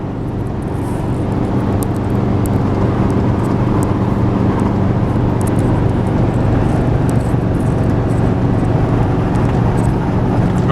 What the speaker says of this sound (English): Just cruising down the road.